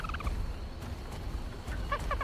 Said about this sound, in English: Oh, I forgot that the kicking chickens was on this map.